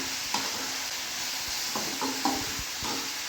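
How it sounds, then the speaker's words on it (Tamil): Onions stirred with turmeric powder in a frying pan make a constant close sizzle, with a few short scraping strokes of a spoon through the mix and no talking. "கொஞ்சம் மஞ்சள் தூள் சேர்த்துட்டு நல்லா கலந்து விட்டுக்கலாம்"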